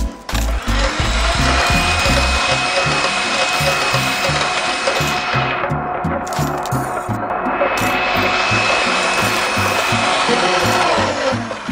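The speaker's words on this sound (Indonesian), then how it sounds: "Ini kita aduk aja lagi dengan mixer." An electric hand mixer whips cream for a dessert, its motor giving a loud, continuous whine with a churning rhythmic rattle close by.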